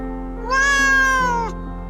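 A single drawn-out cat meow from the video game Romance Club, clear and close, rising then falling over about a second above a steady low background hum.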